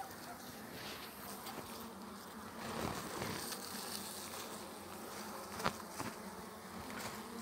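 Honey bees buzz around an opened beehive during an inspection of a weak colony, a dense continuous droning hum close by with occasional faint knocks and handling noises.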